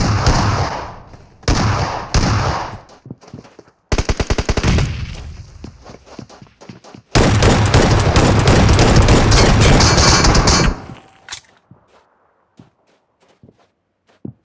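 Video game gunfire crackles in bursts: short machine-gun volleys early, a sharp staccato string of shots, then a long sustained loud stream of automatic fire before it cuts off, leaving a few faint scattered clicks and quiet.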